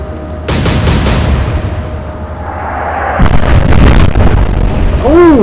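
British cruiser Sheffield firing its guns in a naval warfare game, heavy booming salvos rolling one into another, then a second burst of impacts, ending with a whistling descending tone.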